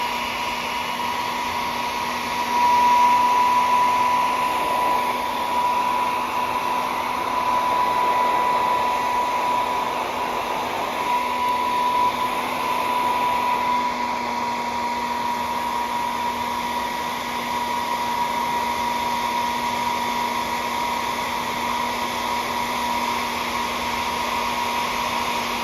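A hair dryer or heat gun warms a part of a 1989 Toshiba T3200SX laptop, a loud, steady airy blowing hum with a constant motor whine that runs unbroken for about twenty-five seconds, no talking.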